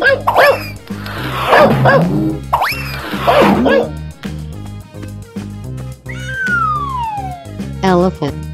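A cartoonish dog barks in a 3D animal game and is answered by meows and other playful animal calls and effects. A steady thumping music beat plays underneath throughout.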